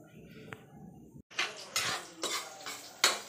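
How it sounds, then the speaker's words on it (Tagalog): Aromatics for noodle guisado are sautéed in a pan: a quiet opening, then a run of metal utensil clatters and scrapes against the pan over a soft sizzle. "Gisa muna ng mga ricado."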